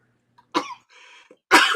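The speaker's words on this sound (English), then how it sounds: "I'm coughing like crazy." A man coughs twice, close and harsh, with a softer raspy breath between the two bursts.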